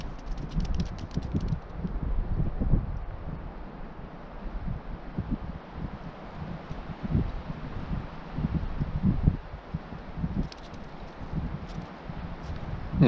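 Strong, gusting wind buffets the microphone beside a taiga lake in spring, a steady low rumble with irregular surges throughout and no voices.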